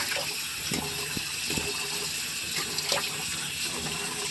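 A bathroom tap runs steadily into the sink while a man rinses his face during a wet shave, making an even, continuous splashing hiss with a few small clinks and taps.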